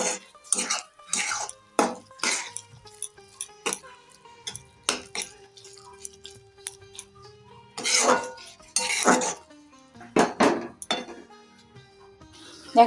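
Bottle-gourd peel mash being mixed with chopped coriander leaves in a pan: intermittent close scrapes and clinks of a utensil against metal, in uneven bursts with quiet gaps and brief voice sounds between.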